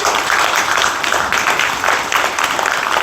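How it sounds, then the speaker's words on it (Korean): An audience at a book concert breaks into dense, loud applause, a steady wash of many hands clapping that lasts the whole moment. "여러분 박수 한번"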